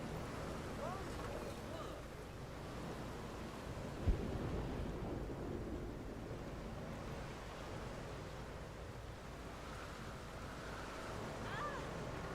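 A storm in the park-building game Jurassic World Evolution 2 blows as a low, steady roar of wind and rain, holding an even rumble with one small thud partway through.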